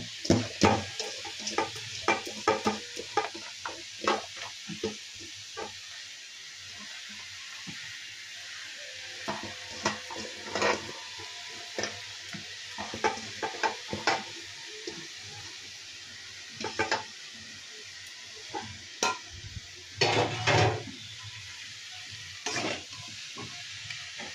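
Bottle gourd stirred into a sizzling crab curry in a pan, with a steady frying hiss and repeated scraping spoon strokes that come in irregular bursts, close and fairly loud with no talking.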